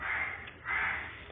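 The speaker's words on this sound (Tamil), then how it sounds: "எனக்கு அந்த காக்கா கூட கத்துது" A crow caws twice in a Roblox horror video game, two harsh, loud calls in quick succession heard alone.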